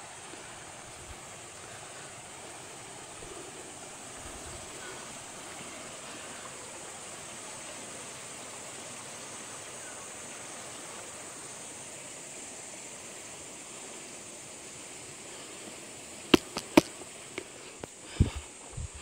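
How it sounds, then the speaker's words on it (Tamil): The Mangani mountain stream on the Sathuragiri hill trail flows in a soft, even, continuous wash of water, with a few sharp clicks and knocks near the end. "இந்த நீரோடைகளோட சத்தத்தை உங்களால் கேட்க முடியும்னு நினைக்கிறேன்."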